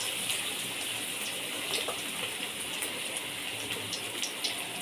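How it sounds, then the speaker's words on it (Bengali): Chicken pakoras fry in hot oil, a continuous close sizzling hiss dotted with small crackles and pops, steady throughout with no voices. "এক এক করে পকোড়াগুলোকে আমি তেলের মধ্যে দিতে থাকলাম।"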